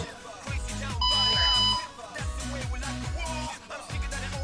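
A single electronic workout-timer beep sounds for about half a second, a steady high tone layered over loud, rhythmic, bass-heavy music during a fat-burning exercise session.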